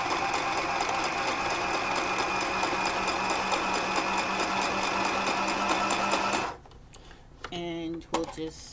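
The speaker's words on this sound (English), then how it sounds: "Let me finish sewing here." A sewing machine stitching doll clothes fabric runs in a fast, even whir for about six and a half seconds, close and loud, then stops, followed by quiet handling sounds and a brief voice.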